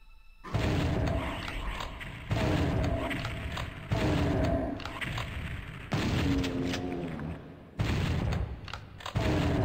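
Gunfire from the video game Doom 64: Retribution: several loud, booming blasts in separate bursts, each with a dense crackling tail, spread across the clip.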